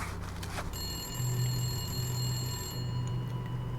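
A telephone rings with a bright, sustained electronic bell tone that starts after a brief pause and keeps going steadily, fairly close and alone.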